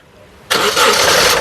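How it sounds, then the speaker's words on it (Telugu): A 2017 Honda Amaze SX fires up on a single press of the self-starter, quiet at first, then a sudden loud catch that settles into a steady close running engine. "ఇంజన్ స్టార్ట్ చేయ సింగిల్ సెల్ఫ్లో కార్ స్టార్ట్ అవుతుంది"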